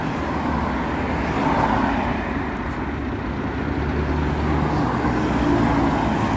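Cars passing on a road, a continuous steady roar of traffic with a fairly loud, even wash of tyre and engine noise and no clear gaps between vehicles.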